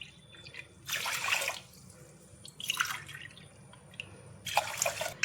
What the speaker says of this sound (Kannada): ಇವಾಗ ಇದೇ ಲೋಟದಲ್ಲಿ ನೋಡಿ, ಇಷ್ಟೇ ಸಣ್ಣ ಲೋಟ ಇದು, 3 ಕಪ್ ಆಗುವಷ್ಟು ನೀರು ಹಾಕೊಳ್ತಿದ್ದೀನಿ